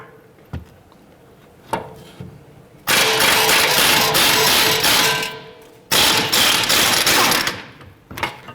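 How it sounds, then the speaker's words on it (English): Ratchet wrench with a 22mm socket loosening the forward lower control arm bolt on a 2009-2015 Honda Pilot, heard as a few sharp clicks followed by two long, loud bursts of rapid ratcheting close to the microphone. "We're going to use a 22mm socket to go ahead and loosen and remove our forward lower control arm bolt here."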